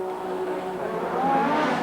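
Formula One car in 1986 Australian Grand Prix practice, braking hard and dropping through the gears, engine pitch stepping down in a loud, close, continuous howl with no voices.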